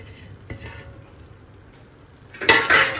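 Carrots and salt stirred together in a bowl, with a couple of soft scrapes early on, then a louder burst of clinking and scraping toward the end, close up with no talking.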